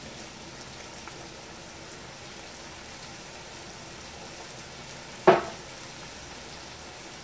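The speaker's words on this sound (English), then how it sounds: "I'm just going to add a few dashes of Worcestershire sauce" Worcestershire sauce sizzles in a hot pan while lobster shrimp linguine is cooked, a steady soft frying hiss throughout with one brief louder splash-like crackle near the end, no voices.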